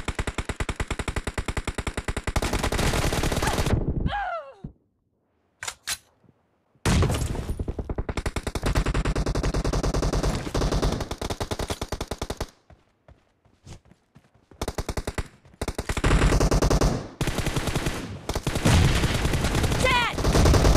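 Automatic gunfire in the video game BGMI comes in long, loud, rapid bursts separated by short silences, with a few single shots in between.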